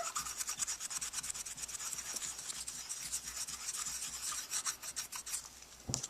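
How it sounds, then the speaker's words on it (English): Paper rubbed hard in small circles while being conditioned for a Copic marker and airbrush coloring project, a steady dry scratchy rasp throughout, close and fairly loud, with no talking. "we do small circles round and round, and really just mash down hard on it"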